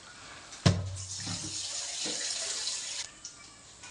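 Tap water runs over fish pieces being washed for an Andhra fish curry, a brief close gush of splashing with a sharp onset and a softer trickle, lasting a few seconds.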